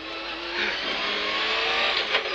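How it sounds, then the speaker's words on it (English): A 1997 Subaru Impreza World Rally car with a 300 horsepower engine revs hard on gravel-strewn tarmac, a loud, continuous rasping engine note that holds steady and close throughout. "let loose in Colin McRae's 300 horsepower World Rally car"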